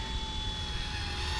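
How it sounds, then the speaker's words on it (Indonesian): An Eachine E120 mini RC helicopter flies nearby with a continuous high-pitched motor whine and rotor buzz, steady in level throughout, with no voices. "Asli ini kayak helikopter mini banget ya."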